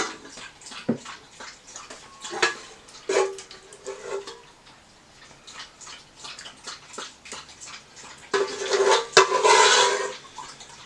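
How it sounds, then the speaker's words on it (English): French onion soup is ladled into a bowl: scattered clinks of the ladle against the pot and bowl, then a louder sloshing pour of liquid near the end, with no talking. "So I'm going to ladle some soup inside the bowl."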